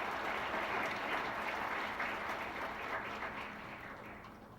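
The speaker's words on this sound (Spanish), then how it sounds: "yo quisiera que se dieran un fuerte aplauso por estar aquí" Audience applause at a talk on healthy obesity, a steady wash of many hands clapping that fills the room and slowly fades toward the end, with no voices over it.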